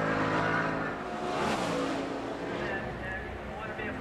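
A number 89 stock car running a qualifying lap at the 2003 Winn Dixie 200 sounds as a steady, loud engine drone that holds for the whole stretch, with a commentator talking over it.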